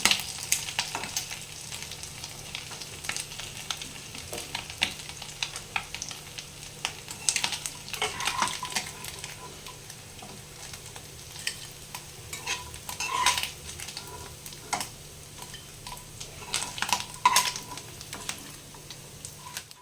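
Small fish fry in oil in a pan for a spicy curry, a steady close sizzle broken by frequent scrapes and clinks of a spatula stirring and turning them.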